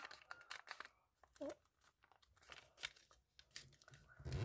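Paper crinkles and creases as a paper doll's dress is folded, soft rustles and crisp crumpling bursts in short bursts, close up beneath someone speaking.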